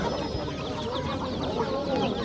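At a poultry bazaar, twelve-day-old chicks keep up a dense, continuous chorus of high peeping and chirping, close and busy, with market bustle underneath.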